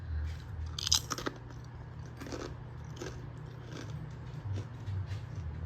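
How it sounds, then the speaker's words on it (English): Several sharp crunches of someone biting into tortilla chips, spaced irregularly over a low steady background hum, close and fairly quiet. "You hear that crunch?"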